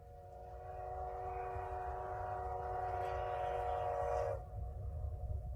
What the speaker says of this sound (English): it's the jackwagon train.